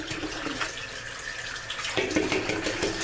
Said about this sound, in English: I like to run water while cracking the shell of my eggs